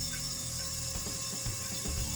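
Leed electric brake vacuum pump on a 1974 Chevy Monte Carlo running steadily, a continuous whirring mechanical hum with a faint ratcheting texture, close and fairly quiet, with no talk.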